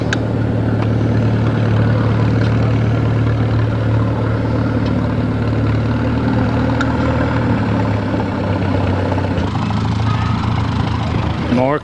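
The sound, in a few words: Cub Cadet garden tractor engine running at antique tractor show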